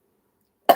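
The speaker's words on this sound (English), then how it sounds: "They will make you cough." A single sharp cough set off by strong-flavoured herbs, sudden and close after near-silence, cut off almost at once.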